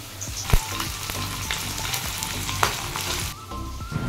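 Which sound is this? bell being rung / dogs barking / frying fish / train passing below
frying fish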